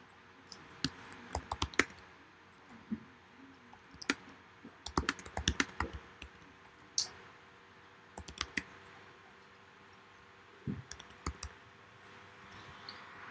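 Keys on a computer keyboard clatter in short irregular bursts of crisp clicks separated by pauses, close and fairly quiet against a faint steady hum.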